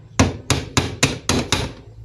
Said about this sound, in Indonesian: Pakai palu aja lah ya.